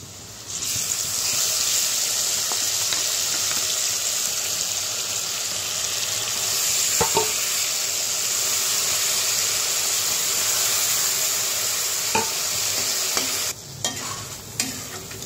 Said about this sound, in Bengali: তো মাছগুলো ছেড়ে দেব।